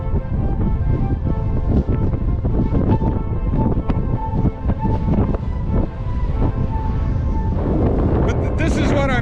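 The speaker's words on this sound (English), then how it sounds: "that wind is at least 30 miles per hour" Strong wind gusting at least 30 miles per hour at the Grand Canyon, roaring and buffeting a camera microphone continuously and loudly throughout, with rumbling turbulence.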